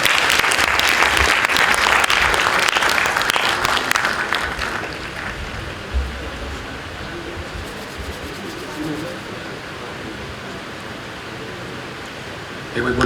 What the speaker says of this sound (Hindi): जोरदार तालियां बजनी चाहिए एक बारी